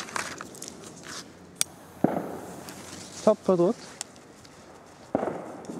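Keller firecrackers (Böller) go off in a row of sharp, close cracks, one loud bang followed later by another, with people chatting in German between the blasts.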